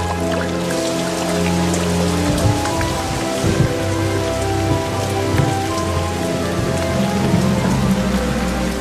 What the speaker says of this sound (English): A massive rain front pushes against the northern slope of the Alps.